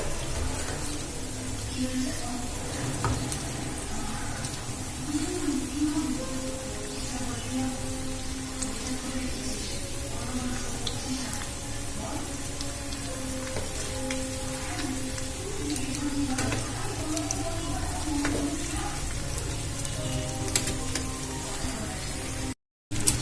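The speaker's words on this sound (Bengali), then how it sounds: "এগুলো খুব লাল লাল করে ভেজে তুলে নেব" Steady, dense sizzling and crackling of potato pakoras deep frying in hot oil, continuous and close throughout, ending in a brief silence.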